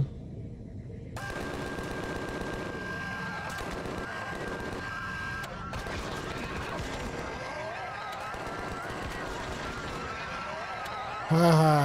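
Rapid automatic gunfire from the video game Empyrion Galactic Survival rattles on continuously in a dense, loud stream, with a brief electronic burst near the end.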